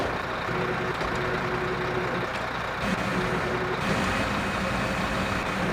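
Heavy wheel loader in the Snowrunner video game manoeuvring to lift a Lodestar truck: a steady, loud diesel engine drone with faint reversing beeps and no talking.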